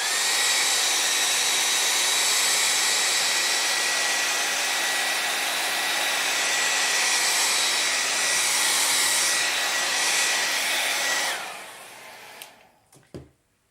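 A regular hair dryer drying a chalk transfer, blowing with a loud, steady whine and airy rush for about eleven seconds before switching off, followed by a few faint handling knocks.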